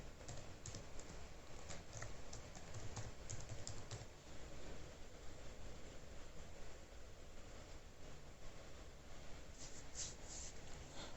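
Steady clicking of keys on a computer keyboard as an email address is entered, close and continuous over a quiet background hum, with no talking.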